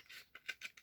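Scissors snipping through a cardboard paper towel roll, giving four or five short, crisp, quiet cuts in quick succession up close.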